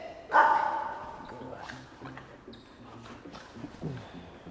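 Dog with leash aggression barks once loudly near the start, then gives fainter yips and whimpers under ongoing talk from a handler.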